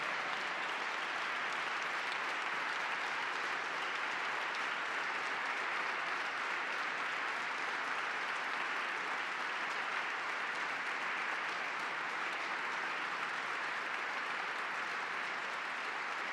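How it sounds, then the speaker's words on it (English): Legislators applaud during a governor's budget address in a large chamber, sustained bipartisan clapping from many hands forming a dense, even roar that holds steady for about sixteen seconds. "Got a lot of bipartisan claps for that"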